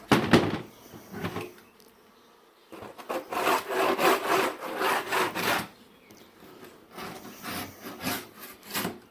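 A hive tool scrapes wax out of a wooden beehive box in rough bursts of rasping strokes, close and fairly loud, with short pauses between passes and no talking.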